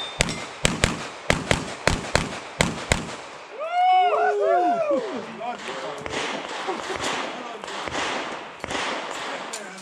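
Rapid pistol caliber carbine gunshots ring out at a shooting competition, a quick string of sharp, loud cracks in the first few seconds, followed by excited voices and cheering from people nearby.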